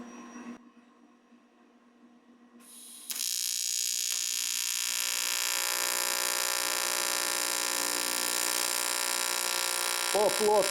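A Jasic TIG-200P AC/DC welder runs at full 200 amps on a flat plate, its arc switching on to a steady, loud, high buzzing hum that continues to the end after a quiet stretch of faint tones.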